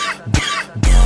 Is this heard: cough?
yes